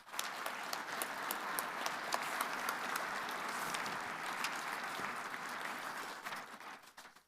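An audience at a water users' conference applauds steadily, dense sustained clapping filling the room for several seconds before tapering off at the end, with no talk over it.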